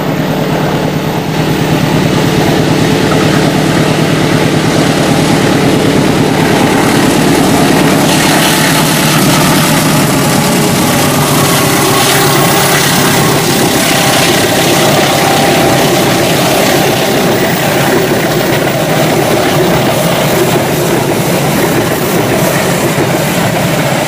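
Manahan passenger train pulling into a station, a loud, steady rolling rumble with wheel clatter and engine drone lasting throughout, close by and with no voices over it.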